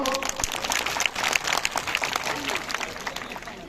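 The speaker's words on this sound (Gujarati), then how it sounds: "હજુ એક વાર થઈ જાય મારા માટે તો કરો યાર તાળીઓ પાડજો" A village crowd at a festival entry event breaks into steady clapping, dense overlapping claps filling the space at close range, with voices mixed in beneath.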